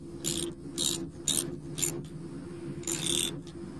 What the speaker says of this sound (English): Take out the slack and re-tighten the bolt.